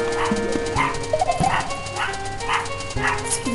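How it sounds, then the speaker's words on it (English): A small dog barks in a quick repeated bow-wow pattern, five or six sharp yips at a steady rhythm, under continuous chiptune music and sound effects from a Super Mario World hack game. "Idiotic dog who wants to barking at everything."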